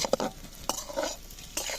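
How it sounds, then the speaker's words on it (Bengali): Sliced pointed gourd frying in hot oil as a utensil scrapes and lifts the pieces out, bringing a soft sizzle and a few sharp metallic clinks. "পটলগুলো ভাজা হয়ে গেছে তুলে নেব"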